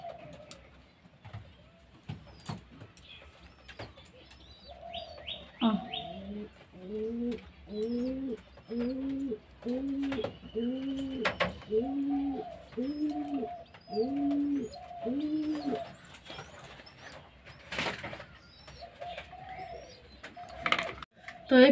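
Many pigeons coo in a steady, rhythmic run of repeated calls from close by, with a few chirps and scattered knocks around them and no talking.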